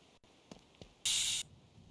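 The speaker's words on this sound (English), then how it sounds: "let me pump up the tires real quick" Air hisses in a single steady burst of about half a second while a tire is pumped up, preceded by a couple of faint clicks.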